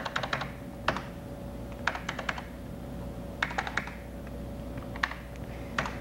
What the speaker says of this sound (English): I'm just going to simply type that in now.